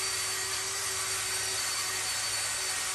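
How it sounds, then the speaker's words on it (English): Cordless drill spinning a light-duty wire brush cup against a Mopar 440 engine block, a steady, loud broadband whir with a constant motor hum, continuous and alone. "I just have these light duty wire brush cups in a cordless drill, and that does the job."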